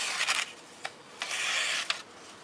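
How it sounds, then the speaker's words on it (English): Close, soft rasping rubs of a Camillus Cuda knife blade being stropped, several uneven strokes with short pauses between them. "Maybe I need to strop it again"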